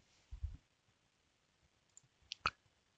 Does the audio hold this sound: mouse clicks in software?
yes